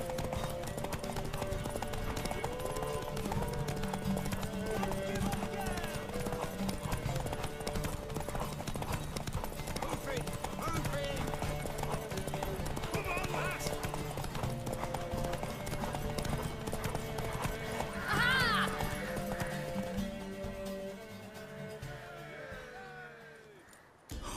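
Horse hooves clip-clop steadily in The Witcher 3 video game, a close, continuous trot with a short neigh toward the end, over game voices and background score.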